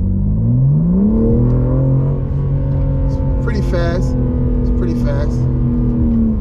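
A 2023 BMW M4 CSL accelerating hard, with the engine note climbing steeply and then holding a loud, close drone, and a voice briefly speaking over it.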